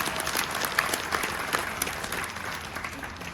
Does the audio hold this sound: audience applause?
yes